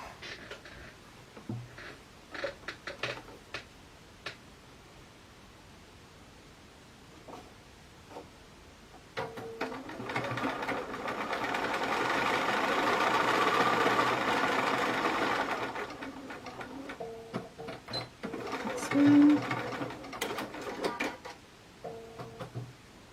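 A sewing machine stitches pieced quilt blocks in a cottage workroom, its steady motor whir rising for about six seconds between quieter handling clicks and small taps, close and alone without voices.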